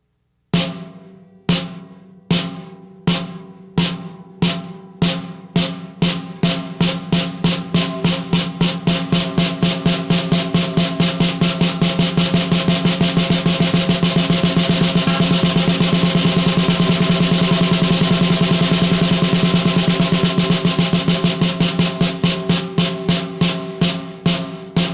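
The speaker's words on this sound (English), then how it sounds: "we'll do single stroke one more time" A drummer plays a single stroke roll on a drum, starting with slow, evenly spaced hits that steadily accelerate into a fast, dense, continuous roll, then ease back toward separate strokes at the end, loud and close.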